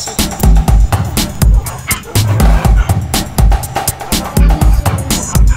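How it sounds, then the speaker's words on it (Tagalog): A dog in the game Minecraft barks and yips repeatedly nearby, loud and insistent, with some whimpering mixed in and people talking around it. "Ano yan? Aso."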